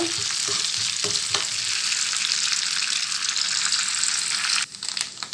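Grated coconut fries in oil in a pan while payasam is being made, giving a steady, dense sizzle with occasional stirring scrapes, loud and close throughout with no talk.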